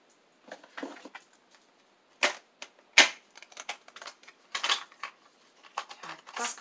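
Tarot cards are shuffled and drawn one at a time, making soft flicks, crisp snaps and papery clicks in uneven bursts, close and fairly quiet, with short pauses between them.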